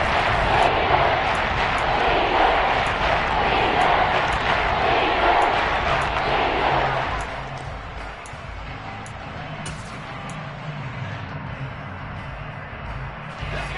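Dense roar of a stadium crowd at a Seahawks football game against Dallas, a loud continuous wash of cheering that eases to a lower murmur midway, with a few sharp bursts above it.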